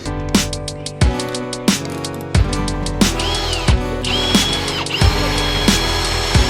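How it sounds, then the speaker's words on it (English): A power drill bites into a metal clamp in short bursts, whirring and ratcheting with sharp clunks between pulls, loud and close. "So I'm gonna drill the clamp out real quick."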